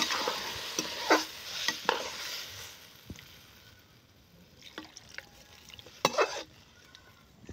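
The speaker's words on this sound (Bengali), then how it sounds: "এবার দিয়ে দেব জল।" Water splashes into fried spices in a village cooking pan for a vegetable curry, raising a hissing sizzle with scraping stirs near the start that fades to a quieter simmer with scattered clinks.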